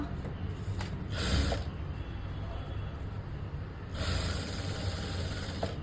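A sewing machine runs a neat half-inch stitch along a blouse sleeve border, its mechanical whirring rising in two louder bursts over a steady background hum.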